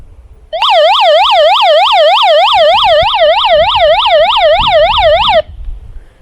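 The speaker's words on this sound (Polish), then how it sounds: "mamy tutaj sylen, syrenę, żeby zasygnalizować albo nie wiem, wystraszyć kogoś" A hand-crank emergency radio's built-in siren wails in rapid rising and falling sweeps for about five seconds, loud and close, starting and stopping abruptly, with faint handling noise beneath.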